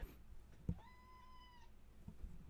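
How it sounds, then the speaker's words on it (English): A house cat lets out a single clear, drawn-out meow at moderate distance, with a few soft knocks and faint room noise around it, no speech. "My cat is going crazy over here."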